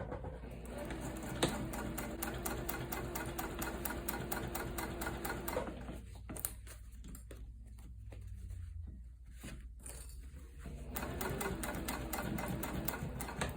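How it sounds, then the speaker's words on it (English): A sewing machine runs in fast, even stitching bursts while sewing a tote bag seam at close range, pausing briefly midway before resuming its rapid mechanical rattle. "I'm gonna start stitching up here, and I'm gonna stitch across at a 1/4 inch seam allowance"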